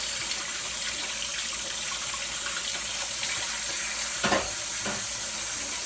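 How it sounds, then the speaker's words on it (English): Juicer parts from a newly unboxed healthy juicer rinsed under a running kitchen tap, a steady close broadband water hiss with brief splashy bursts near the end as pieces pass through the stream. "just rinse it. Rinse this."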